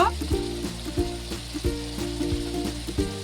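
Ground coriander, cumin and red chilli powders fry in a pan for a vegetarian soybean curry, a continuous sizzle broken by regular scraping stirs with a spatula, close and moderately quiet.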